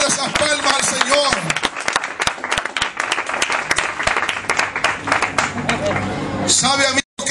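A church congregation claps for the Lord, loud sustained applause with sharp rapid claps throughout while a voice speaks over it.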